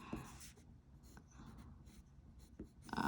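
A white pencil sketches angular lines on paper in close, quiet scratchy strokes, with short pauses between them and a firmer stroke near the end.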